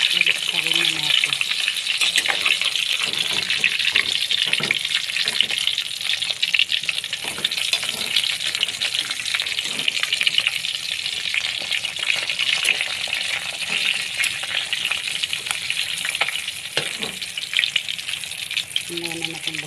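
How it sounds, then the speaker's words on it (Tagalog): Boneless milkfish, daing na bangus, frying in a pan: a loud, close, continuous hissing sizzle with crackling spatter and occasional light clinks and scrapes, no voices. "Ngayon na natin balik-tarin. Luto ng aking daing na bangus."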